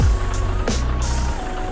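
A bus in the Bus Simulator Indonesia game gives a few loud, evenly spaced electronic reversing beeps. They sound over a steady low engine rumble, with no voices.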